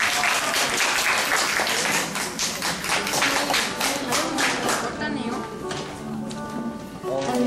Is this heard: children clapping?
yes